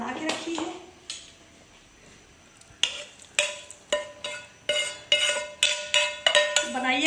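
Spaghetti being stirred in a pan with Alfredo-style cheese sauce and chicken, a series of loud repeated scraping clanks of a utensil against the pan, coming faster toward the end.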